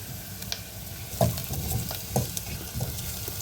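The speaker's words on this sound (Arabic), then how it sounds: "نقلب شويه" A spoon stirs mahshi rice with onion, chicken stock and spices (cumin, coriander, black pepper) in a pot, with a steady sizzle under repeated scraping strokes against the pot, close and continuous, no talking.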